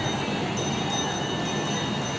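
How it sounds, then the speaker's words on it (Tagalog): An LRT light rail train passes nearby at SM Santa Rosa, giving a steady loud rolling rumble with faint rail squeal and clatter, and no talking. "may LRT pa"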